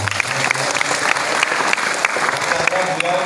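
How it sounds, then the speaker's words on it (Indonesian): Audience in a hall giving steady, dense applause, many hands clapping continuously and loudly at close range throughout. "karena ini di aula boleh tepuk tangan"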